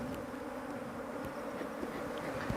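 Honey bees buzz steadily around an opened beehive during a honey harvest in Rongai, a dense continuous hum close to the microphone with occasional louder passes of individual bees.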